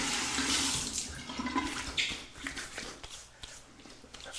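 Water splashing and running during a Christmas shave, a steady close rinse that tapers off with small splashes and drips, with no speech.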